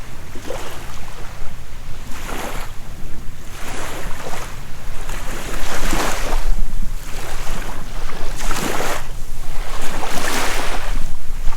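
Waves washing in at a river beach campsite, loud surges that swell and recede every couple of seconds, heard close with wind rumbling on the microphone and no voices.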